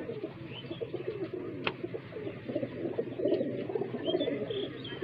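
Saharanpur-breed highflyer pigeon cooing softly at close range, low repeated throaty coos over a steady background, one sharp click partway through, no speech.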